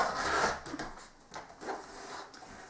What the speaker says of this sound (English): So let me just trim the edges off.